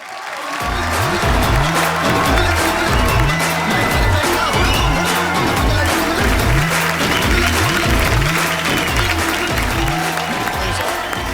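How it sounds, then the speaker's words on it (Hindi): A studio audience on the Kapil Sharma comedy show applauds as director Omung Kumar is invited up. The steady clapping runs throughout under a repeating, rhythmic music bed. "आप सबकी तालियों के बीच इनवाइट करना चाहूंगा मिस्टर उमंग कुमार को।"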